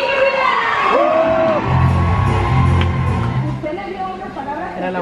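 A television studio audience cheers, whoops and yells for a singer, a loud, lively crowd burst with voices shouting over it.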